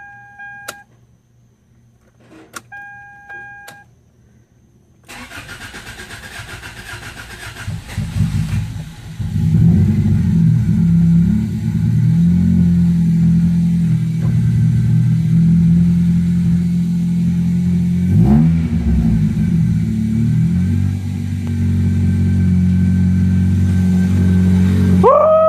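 After a new intake manifold, throttle body and injector swap, a Toyota Corolla engine whirs as the fuel pump primes and cranks, then catches and settles into a loud, steady idle with a couple of revs.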